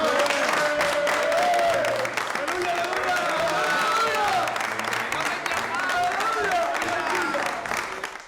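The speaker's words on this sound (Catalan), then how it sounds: "Hi ha un aplaudiment." A crowd applauds, a steady patter of many hands with some cheering, while voices talk loudly over it throughout.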